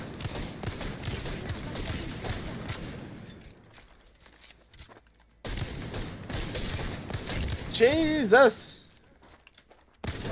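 Single-fire gunshots ring out at a video game firing range, with sharp repeated cracks alongside talk and an excited shout, then a short gap before more shots resume.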